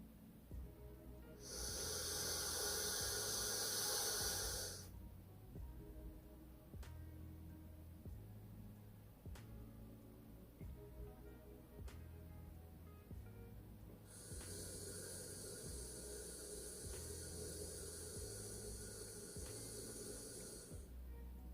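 Someone breathes into a Lumen metabolism tracking device: two long, forceful hissing exhalations several seconds apart, with softer breathing and faint clicks between them, close and clear.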